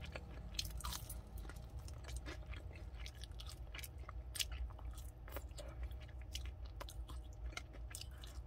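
Close, loud crunching as takeaway crispy fried chicken from Chicken Plus is bitten and chewed, with irregular crackly bites over several seconds and no talking.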